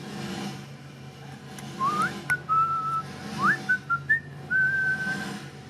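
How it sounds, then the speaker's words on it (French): A person whistles a short, wavering melody of several rising and sustained notes, moderately close, over a faint background hum. "Je vais siffler tout le temps maintenant"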